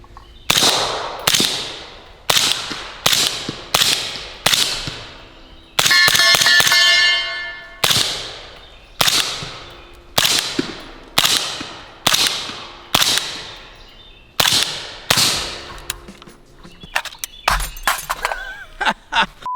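Suppressed short-barrel .300 Blackout rifle fires subsonic rounds, mostly as a steady series of loud, close, muffled shots with short decaying tails, including one stretch of sustained rattle, then ending in a flurry of clicks and knocks.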